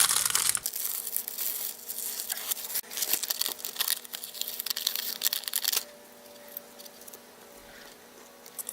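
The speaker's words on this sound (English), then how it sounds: "And pull the plastic off." Plastic backing is peeled off adhesive craft pieces for mixed-media Valentine cards, giving close, irregular crinkling and tearing bursts for several seconds before the sound drops to quiet handling.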